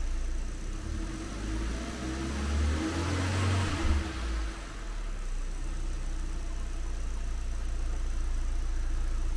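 A car engine idles, then revs up to 2,000 to 3,000 rpm and holds higher for a few seconds before dropping back to a steady idle.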